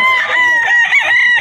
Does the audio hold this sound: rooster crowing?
yes